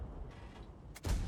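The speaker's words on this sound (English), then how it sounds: "This shot bounced." A single metallic impact of a tank shell bouncing off the armor of a tier 7 British tank destroyer in World of Tanks, a short crack near the end over low engine rumble.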